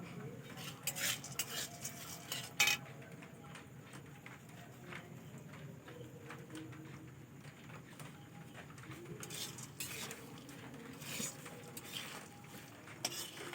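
Flattened rice and peanuts being stirred and fried together in a pan make faint, irregular scraping and clinking of a spoon against metal, with small rattling taps throughout and no talk.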